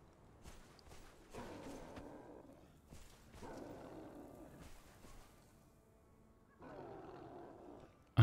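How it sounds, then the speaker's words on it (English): A creature in the Conan Exiles game world lets out three separate growling roars, each lasting about a second and spaced a few seconds apart, with faint footsteps between them. "I don't know what this roaring is that I keep hearing."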